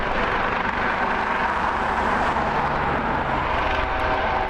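A medical transport helicopter flying in for a shock trauma patient, with a loud, steady engine and rotor drone holding throughout and no speech.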